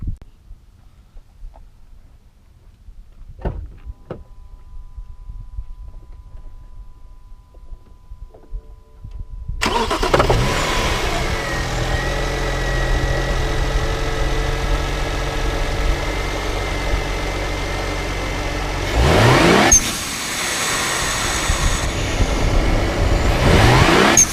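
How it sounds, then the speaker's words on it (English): A BMW 335i with an aftermarket blow off valve and charge pipe, its engine idling and then revving loudly with bursts of rising roar and venting whooshes, close to the microphone with no talk. "So let me give you a few blow off valve shots here."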